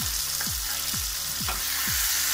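Grated onion dropped into hot oil with golden brown garlic for spicy party-style aloo gobi, a dense close sizzle with steady frying crackle and a few soft stirring scrapes.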